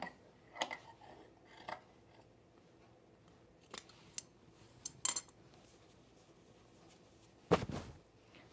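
Scissors snip through pre-quilted fabric while trimming a seam allowance on a quilted Tamarack jacket, a handful of separate crisp cuts spread out with quiet gaps between them, close by.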